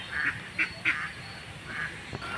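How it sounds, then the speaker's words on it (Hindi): Ducks on a lake give several nasal quacks in quick, irregular succession, moderately close, set against steady outdoor ambience with no talking. "अभी तक पानी में खेल रहे थे बतख"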